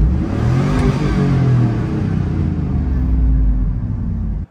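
A Chevrolet Silverado pickup with a 5.3 liter V8 and an aggressive cam revs loud and close, a steady deep rumble holding for about four seconds before cutting off abruptly.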